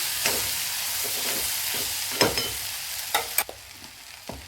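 Okra (bhindi) sautéing uncovered in a pan, a soft continuous sizzle broken by several sharp scrapes and clatters as it is stirred, no talking.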